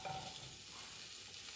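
Olive oil sizzles in a frying pan as food begins to fry, a faint, steady crackle that continues evenly throughout with no talking.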